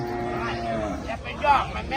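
Cattle at the Lak Chet livestock market in Thailand: a loud, close, drawn-out moo, followed by a rougher bellow, set against the busy murmur of the market.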